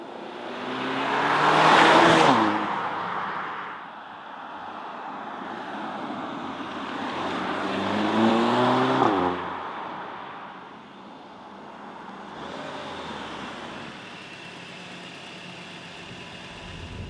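Porsche Macan with its 252 hp four-cylinder engine under way, a steady broadband engine and road drone swelling twice into louder surges of acceleration before settling back to a moderate cruise, no talking.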